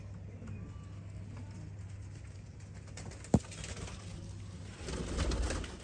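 Sialkoti breeder pigeons coo faintly over a low steady hum, with one sharp click partway through and a swell of background noise near the end.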